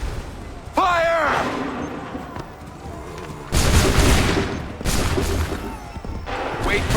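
Musket volleys from ranks of soldiers in Assassin's Creed III, several loud crashing blasts in succession, each with a long noisy tail, after a shouted order and a rising whistle-like cry.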